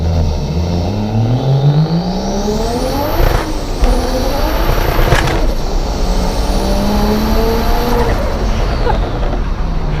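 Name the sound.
single turbo BMW 335i accelerating hard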